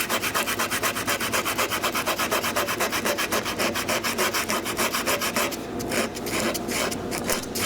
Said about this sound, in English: make some scuff marks in the actual metal such that the glue can kind of bond into there